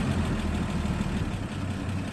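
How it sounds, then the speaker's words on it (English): A 1979 Toyota Land Cruiser FJ40 engine idles steadily and close by, a continuous low rumbling drone with a slightly quick, even beat and no talking. "this 79 Land Cruiser FJ40 is ready to idle"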